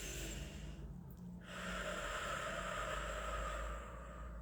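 Deep, slow breathing during a calming, grounding let-go exercise: one long, steady breath sits close over a constant airy hiss, with a fuller inhale swelling about a third of the way in, and no one talking.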